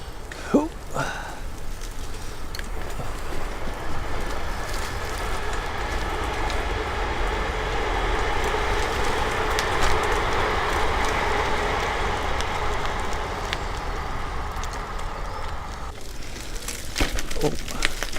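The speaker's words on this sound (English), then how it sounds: "I can hear a train." A train rumbles past in the distance on an outdoor walk through a wooded park, a long steady roar that swells and fades over many seconds, with brief speech and footsteps near the start and end.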